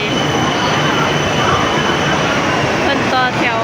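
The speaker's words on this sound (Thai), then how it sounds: "จะขึ้นรถไฟ" A train at a busy station gives off a steady, loud mechanical rumble with faint wheel squeal and brake hiss, heard close by along with a crowd murmur.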